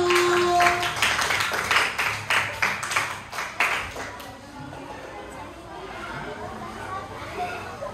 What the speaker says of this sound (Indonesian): Beri tepuk tangan dulu ke kelompok 1